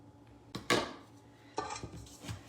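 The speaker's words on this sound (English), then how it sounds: "I just have to scrape some of that off of there." Metal spoon scraping and tapping against a mixing bowl while clearing sticky keto cookie dough, a few short clinking scrapes close up with quiet pauses between.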